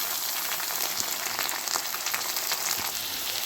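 Onions with ginger and garlic paste sizzle steadily in a pan, a dense, even hiss with faint scattered crackles and no talking.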